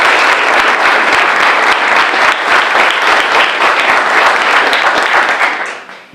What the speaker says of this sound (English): I'd like to give them just a round of applause.